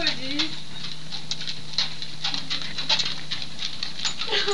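Rapid light patter of two dogs' paws on a moving treadmill belt, a steady mechanical hum underneath, with scattered quick footfalls close by.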